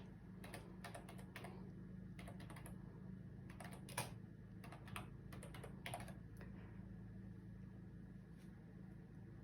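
Typing on a computer keyboard while entering text produces rapid clusters of close, light key clicks in irregular bursts over a steady low background hum.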